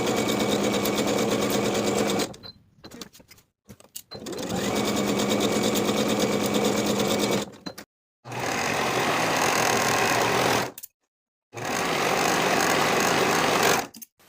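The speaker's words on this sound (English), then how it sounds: "Sew both side seams with a 1/2 inch seam allowance, finish the raw edges together" A sewing machine stitches the side seams of a dress at a 1/2 inch seam allowance, running in four steady, loud bursts separated by short pauses, with no talking.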